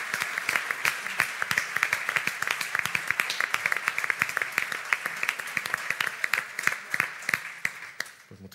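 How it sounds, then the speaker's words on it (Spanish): An audience at a public event on EU-cofinanced FEDER projects claps for invited guests, a dense, sustained round of applause with many individual claps that tapers slightly at the end. "un fuerte aplauso a nuestros invitados por sus proyectos"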